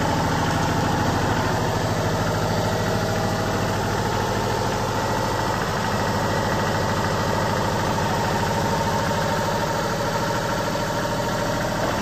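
A 2006 Kubota L35 tractor engine runs at a steady, loud idle-like drone throughout, with no talk over it.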